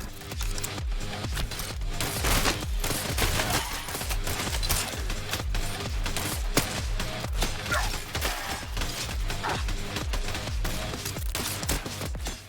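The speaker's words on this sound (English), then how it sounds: "This shotgun's really good." A shotgun fires repeatedly in the video game CyberCorp, a steady run of sharp close blasts over busy mechanical combat noise.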